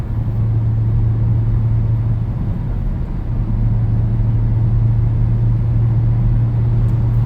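A 2000 Audi A6 4.2 accelerates at full throttle after a kickdown to its lowest gear, producing a sustained loud, droning engine roar with a brief dip partway through before it pulls hard again.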